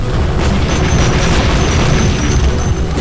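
The Shot Cycler shotgun in Daikatana emptying its whole magazine in one trigger pull, a dense, unbroken roar of rapid booming blasts lasting the full three seconds, loud and close without any talk.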